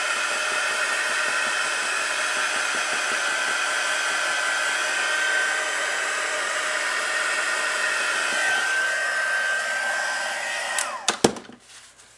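A heat tool blows a steady, loud broadband whoosh while drying a watercolor card with embossing, running continuously for about eleven seconds before cutting off with a few clicks and handling bumps.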